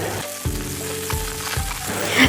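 Eggs fry in a pan on a stove, giving a steady close sizzle with a few soft stirring or scraping bumps.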